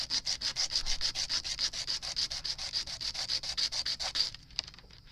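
Paper being hand-sanded with sandpaper: a fast, even rhythm of about two dozen gritty rubbing strokes, close and clear, ending in a few lighter scrapes, with no voices.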